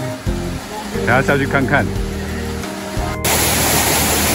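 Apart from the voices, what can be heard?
large waterfall at Touqianxi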